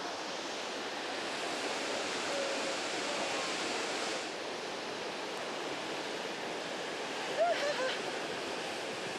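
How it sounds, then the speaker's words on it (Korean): Large waterfall among green trees in the Austrian Alps, swollen with snowmelt, producing a continuous roaring wash of water that stays steady and fairly distant, with a faint brief bird-like chirp partway through. "초록색 나무 사이로 저렇게 엄청난 폭포가 내려오니까"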